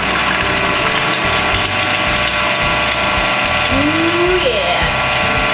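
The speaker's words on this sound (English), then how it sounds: "throw these in the food processor, make sure it's all plugged in," A food processor chopping garlic cloves for hummus, giving a loud, close motor whir with rapid rhythmic clattering pulses from the blade and cloves; a person briefly exclaims partway through.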